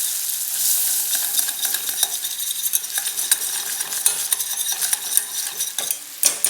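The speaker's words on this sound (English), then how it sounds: "Start cooking the flour in the butter." Flour cooking in melted butter for a roux for a vegetarian Bologna-style lasagna gives a close, bright hiss and sizzle, dotted with rapid clicks and spoon-scraping pulses of stirring throughout.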